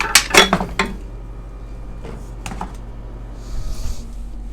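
Pieces of mutton clatter and clink into a metal pressure cooker in a quick burst of knocks, followed by a few softer bumps and quiet scraping.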